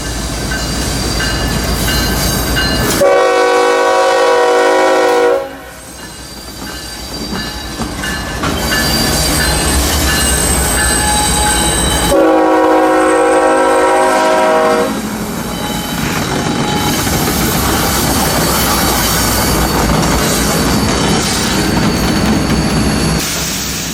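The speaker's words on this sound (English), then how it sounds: "they are clearly not liking the radius of this curve. The squeal of those flanges is deafening." Loaded freight train led by scrap gondolas, with new EMD locomotives, rounding a tight curve at a rail connection near Plant City, wheel flanges squealing loudly in piercing sustained tones that come in two long bursts amid rumbling rolling noise.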